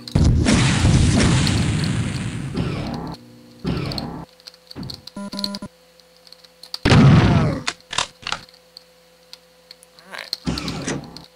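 Rocket explosions in Quake II, played as Doom: several loud booming blasts with rumbling decay, one long heavy burst followed by shorter thumps and scattered clicks and pops of game effects.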